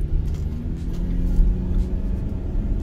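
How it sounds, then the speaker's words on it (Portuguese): A truck rolls slowly along a narrow town street, a steady low engine rumble close by with no clear revving. "Ó, o caminhão na rua."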